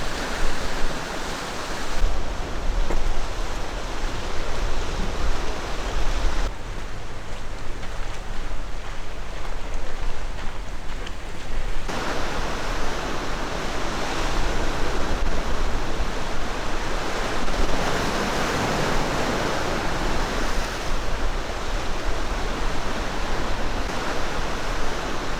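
Sea waves crash and break against large volcanic rocks along a rocky East Sea coastal walking path, a continuous loud roar of surf and spray with surges rising and falling throughout, no voices.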